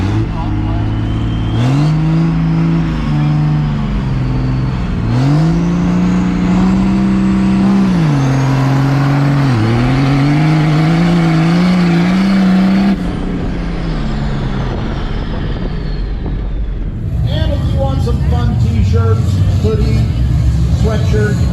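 A Cummins diesel truck engine on nitrous revs hard with rising and falling roars and a deep, steady drone, loud and close, with engine noise continuing throughout and talk mixed in.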